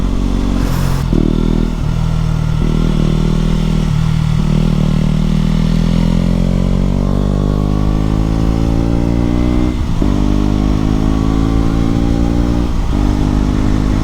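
A motorbike engine runs steadily close by while being ridden, with several throttle blips and gear changes giving rising harmonic sweeps over a constant road rumble.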